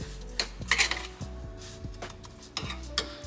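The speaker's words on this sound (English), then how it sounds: "give it a stir so that butter doesn't burn" A spoon stirs melting butter and brown sugar in a pot over low heat, giving several distinct scraping knocks against the pot in an uneven rhythm, up close and fairly quiet, with a faint sizzle underneath.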